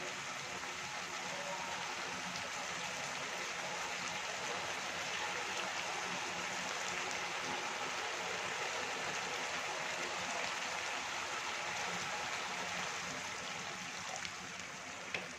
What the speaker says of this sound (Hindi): हल्का सा पानी डालते हैं इसके अंदर ताकि अच्छे से गल जाए